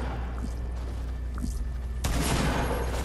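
Shotgun fire in the video game Fortnite, a loud burst of gunfire starting partway through that stays dense and busy to the end over steady game background noise.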